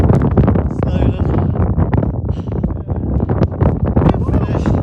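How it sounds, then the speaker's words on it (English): Strong, cold wind buffets the microphone on the summit of Snowdon, Wales, a constant loud roar and rumble with voices talking underneath. "It's very cold and windy."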